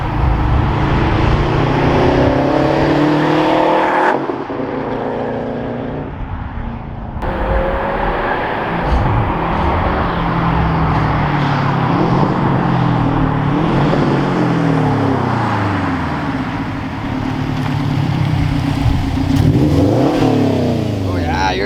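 Subaru STI Type RA with a Magnaflow catback exhaust revving loudly and close by, repeated throaty swells rising and falling with a brief dip in the middle, people talking over it.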